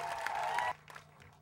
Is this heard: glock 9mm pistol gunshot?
no